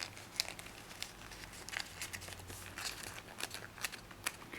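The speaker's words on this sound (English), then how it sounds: "take your flap and fold it right up against this edge here" Origami paper folded and creased against an edge, giving soft close crinkling and papery ticks that patter irregularly throughout, quiet and without talk.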